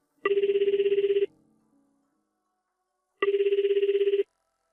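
A telephone rings in two identical electronic trills, each about a second long with a pause of roughly two seconds between them, clear and close in an otherwise quiet room.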